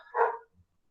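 A single dog bark, short and sharp, comes at moderate distance, followed by silence.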